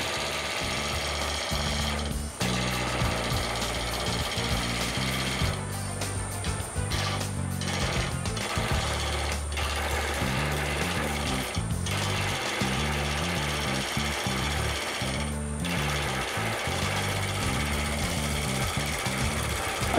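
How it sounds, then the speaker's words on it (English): Roughing gouge taking very light cuts on a flexing walking stick blank spinning on a wood lathe, a steady loud chattering rattle running continuously with rhythmic pulsing, no talk. "I am cutting with a very sharp, roughing gouge, barely rubbing the barrel to avoid exerting too much pressure, and taking very light cuts"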